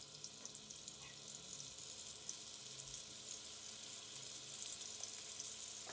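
Meat cutlets fry in rendered fat in a pan over medium heat, giving a quiet, steady sizzle with faint crackles and occasional soft clinks, heard from close by with no one speaking.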